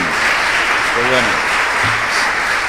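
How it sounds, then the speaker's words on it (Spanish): Loud, continuous applause from a church congregation, a thick sustained roar of clapping throughout, with a few voices calling out over it. "¿Por qué no le mandamos un fuerte aplauso a todos los hermanos que nos están viendo y escuchando en este momento?"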